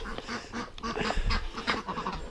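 Ducks quack loudly and repeatedly up close in a poultry yard, a rapid string of harsh, overlapping calls with no talking.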